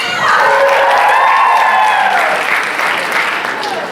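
Applause and cheering from an audience at a contestant event, steady and loud for about four seconds, with whoops and shouted voices rising over the clapping before it slowly thins.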